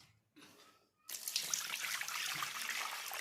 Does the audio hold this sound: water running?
yes